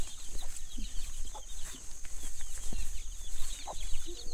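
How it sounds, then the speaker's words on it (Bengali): A flock of chickens at a hillside tea-garden homestay clucks and calls in scattered bursts over a steady outdoor wash, some birds near and others farther off. "এক পাল মুরগি দেখতে পেয়েছি"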